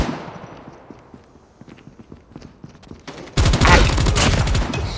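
Gunfire in Call of Duty: a run of evenly spaced pistol shots builds, then a sudden loud burst of rapid automatic fire takes over at close range.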